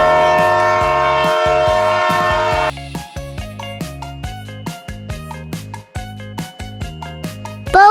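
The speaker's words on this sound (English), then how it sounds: "Train." A train horn blares in a long sustained chord, then the train passes with a rhythmic clatter of wheels over rail joints, loud and close, and the horn returns briefly at the end.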